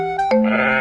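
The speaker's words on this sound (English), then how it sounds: "Sheep." Sheep gives one short, loud bleat up close, wavering and slightly nasal, heard alone.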